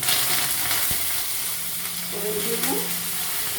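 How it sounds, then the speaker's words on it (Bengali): Dried red chillies, chana dal, urad dal, mustard seeds and curry leaves sizzle and spit steadily in hot oil for a Bengali-style tempering, a close, continuous frying hiss with faint stirring. "দিয়ে শুকনো লঙ্কা, ছোলার ডাল, বিউলির ডাল, সর্ষে আর হলো কারিয়া পাতা, এই হলো ফোড়ন"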